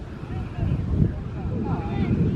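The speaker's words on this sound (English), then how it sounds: "you have to forgive the wind blowing through, we're pretty much exposed here" Wind gusting across an exposed rhino paddock at a zoo, a steady low rumble buffeting the microphone throughout, with a voice talking faintly underneath.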